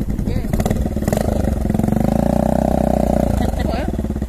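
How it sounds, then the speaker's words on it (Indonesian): Motorcycles roar past close by in a Tawau street, with a steady engine drone that swells and fades over a few seconds. "budak-budak motor."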